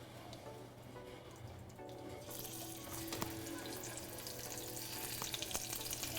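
Scallops sizzle in a frying pan, a soft, continuous crackle that grows brighter and fuller partway through as more hit the hot surface. Faint kitchen clatter sits beneath it, with no speech.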